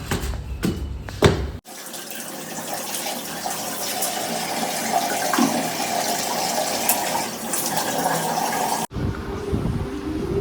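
Water gushes steadily from a tap into a glass, a loud close rushing stream lasting about seven seconds, then cutting off abruptly into quieter room noise.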